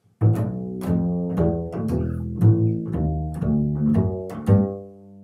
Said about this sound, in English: the bass line would sound something like this.